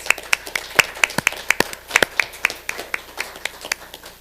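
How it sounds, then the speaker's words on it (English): Audience clapping at a city council meeting, a sparse, uneven round of individual handclaps from a small group, crisp and close, gradually thinning out over a few seconds. "You deserve a round of applause."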